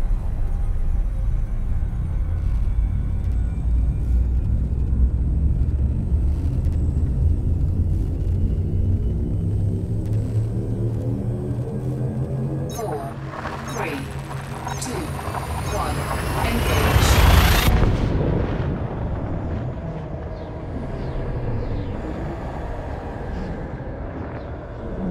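Elite: Dangerous frame shift drive charging and jumping near LHS 3447: a steady low spacecraft rumble builds, then a loud rising whoosh surges and fades.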